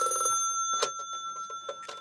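A telephone bell rings on a phone line after an internal extension is dialed, a bright metallic trill in short repeated bursts, close and clear, with some line noise underneath.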